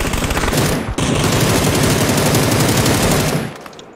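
Sustained loud automatic gunfire from a shooter video game rattles in a continuous rapid stream, broken by one brief gap, then tapers off near the end.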